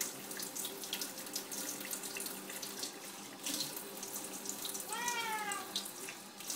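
Tap water runs steadily into a sink while a pet is rinsed during a bath, a close, constant splashing rush, with a brief cat meow near the end.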